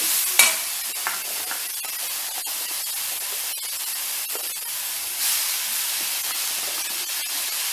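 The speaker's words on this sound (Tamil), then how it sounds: "அது செவந்ததும் இந்த வாழைப்பூவை கொஞ்சம் புழிஞ்சிட்டு அதில் போட்டு கரட்டி" Squeezed banana flower fries in oil for dosa, hissing and crackling steadily, with occasional scrapes and clinks of stirring in a close, continuous sizzle.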